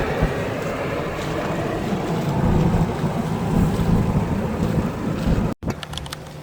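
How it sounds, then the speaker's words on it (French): Steady rush of wind and water around a sailboat moving under sail at about 6 knots, a constant broad roar with a brief dropout near the end. "on a rouvert les voiles, on a du vent, on fait du 6 nœuds"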